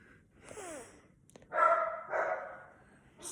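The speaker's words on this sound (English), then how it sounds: "that's my dog barking." A dog barks a few times nearby, short sharp yips and woofs with brief pauses between, over a quiet background.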